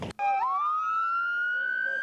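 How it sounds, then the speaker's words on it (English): A loud siren wails steadily on a street after a storm, following a brief burst of noise, its tone rising then holding high and continuous, close and alone. "sirens were screaming on McFarland Boulevard"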